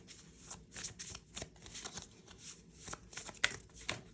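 Someone shuffles a deck of oracle cards, a soft and steady riffle of flapping, slapping cards close by with no talk.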